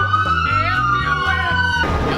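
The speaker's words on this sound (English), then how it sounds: "Ambulance." An ambulance siren on a San Francisco street, a loud sustained wailing tone sweeping steadily close by over low traffic rumble, cutting off near the end.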